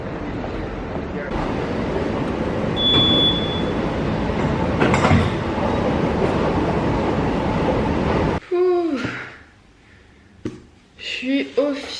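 Steady roar of a Madrid metro train riding along the rails, dense rumble with rattling, ending as the noise drops and a voice speaks briefly nearby.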